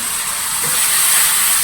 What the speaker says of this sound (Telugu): ఇదిగో టమాటా వేస్తున్నాను.